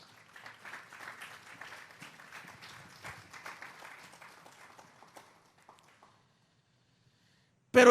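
Church congregation applauding together, a dense spread of hand claps lasting about six seconds before fading out, followed by a short silence and an abrupt loud burst at the very end.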